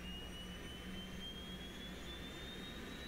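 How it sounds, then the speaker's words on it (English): Auxiliary power unit of a Boeing 727 in the X-Plane flight simulator spooling up behind the cockpit, a steady whining jet-turbine hum with a slowly rising high tone, constant and alone without talk. "the APU firing up back there"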